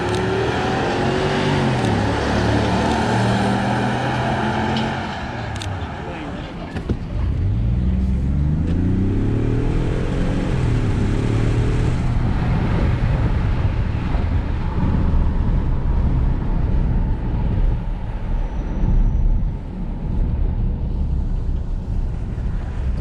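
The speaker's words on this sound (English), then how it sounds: "We're gonna do a drag race." 2021 Ford F-150 pickup trucks accelerating hard in a drag race, engines rising in pitch through a couple of gear changes, then a long steady roar under heavy wind buffeting on the microphone.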